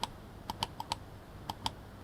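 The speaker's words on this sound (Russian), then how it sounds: "Клик хороший, четкий." Sharp, crisp clicks from the buttons of an Asus ROG Gladius III wireless gaming mouse, about eight distinct clicks in an uneven rhythm, close and clear against a quiet background.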